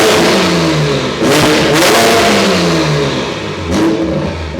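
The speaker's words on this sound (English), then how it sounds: "A full Inconel exhaust system, accentuating that B58 straight 6 turbo noise." BMW B58 straight-six turbo engine with a full Inconel exhaust, flex fuel and a full fuel kit, revving hard in repeated rising and falling sweeps, loud and close with no talk.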